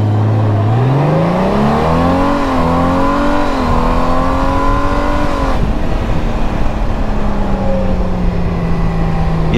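A 2021 Honda Goldwing motorcycle pulling hard out of first gear in sport mode, its engine note climbing steadily through the revs, then dropping into a lower, steady cruise, heard loud and close with wind noise.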